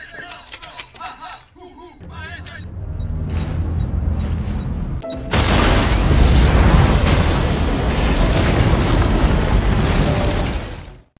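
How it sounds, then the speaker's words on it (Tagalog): A building explodes from a car bomb in a film scene, a sudden loud boom after sparse clicks and rumbles, followed by a sustained roaring blast and debris noise lasting several seconds. "kaagad na sumabog ang gusali"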